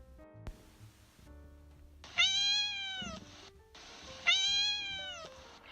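Two cats meow in turn, each a long, drawn-out, fairly close cry separated by a short pause, over faint low background noise.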